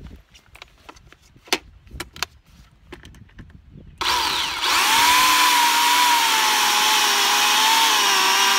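Chainsaw cutting a green cherry wood log. Scattered knocks and clatter come first, then the saw starts halfway through and roars loud and steady at close range until the end.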